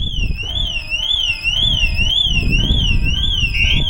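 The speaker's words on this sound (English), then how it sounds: "you can see it trigger and then go into full alarm" A loud electronic van alarm on a VW Transporter, a Starline Solaris system, wails continuously, its pitch sweeping rapidly up and down in a steady, repeating cycle.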